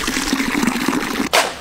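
Water pours from a container in a steady broadband wash that runs for over a second, then stops before a short, sharper splash near the end.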